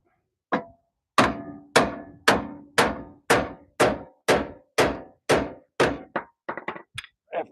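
Hammer blows striking a lower control arm bolt during a DIY strut replacement on a car, about a dozen sharp metallic strikes in steady rhythm, then a quicker cluster of lighter taps, loud and close with no talking.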